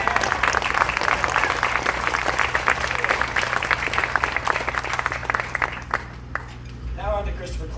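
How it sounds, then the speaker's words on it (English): Wedding reception audience applauding a best man's speech, sustained dense clapping from a crowd that fades out near the end, with some voices and a faint chime-like sound as it dies down. "let's give them a round of applause"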